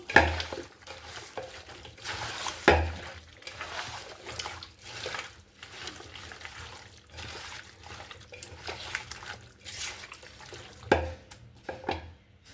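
Chicken pieces with chopped green chili and salt being mixed by hand in a metal pot, wet squelching and soft stirring with occasional sharp clinks of the bowl, close and intermittent.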